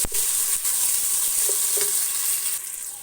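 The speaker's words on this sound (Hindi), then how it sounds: "अच्छी तरह से आपने इसको फ्राई करना है" Aloo palak with tomatoes sizzling and frying in a pan, a loud continuous hiss with occasional stirring scrapes, close up and without talk.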